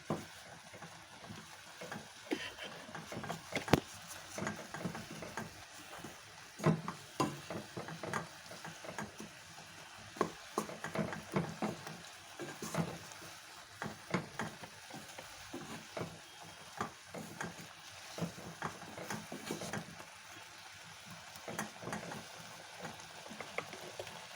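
Papaya chutney with dates and a little ginger is stirred in a pan without oil, producing repeated close scraping and clicking strokes over a faint bubbling sizzle, continuous and rhythmic.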